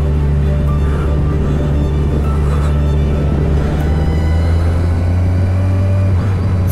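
Car interior drone as the vehicle rolls slowly into the Alizon Hotel grounds in the Pyrenees, with a loud, steady low engine and road rumble and no clear other events.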